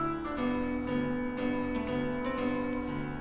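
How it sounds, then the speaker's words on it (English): Toreador tune played by Freddy in a Five Nights at Freddy's fangame sounds as a thin, tinny melody, steady and moderately quiet, with no voices over it. "4 songs Freddy can play are Toreador,"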